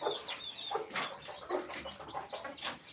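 Caged chickens cluck in a string of short, close calls about every half second, with some higher squawks among them and no talk.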